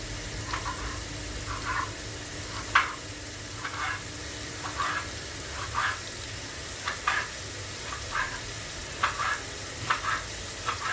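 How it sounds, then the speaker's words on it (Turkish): Onions frying in a pan in a home kitchen, a steady low sizzle with repeated short scraping stirs at irregular intervals, moderately close and with no talking. "Şimdi soğanları güzel kavralım pembeleşinceye kadar."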